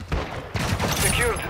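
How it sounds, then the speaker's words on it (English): Enemy gunfire in a first-person shooter match comes as rapid, crackling bursts of shots, fairly loud and continuous across the moment. "They're shooting at me!"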